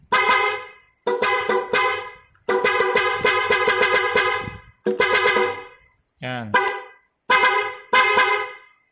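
A Benelli TRK 502X motorcycle's aftermarket Pia horn blares in several sharp honks of varying length, loud and close, with a brief spoken word between them.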